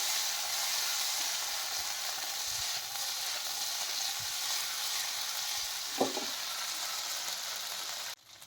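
Snack balls frying in hot oil in a pan while being stirred, a continuous loud sizzle with a few scraping clicks of the spoon against the pan, heard close up.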